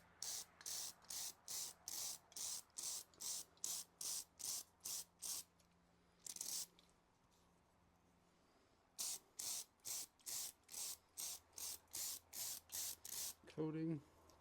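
Bursts of aerosol spray coating a foam air filter on a 1990 Honda Foreman Fourtrax 350 4x4 ATV, loud short hisses in a steady rhythm, a pause, then another run of even spurts.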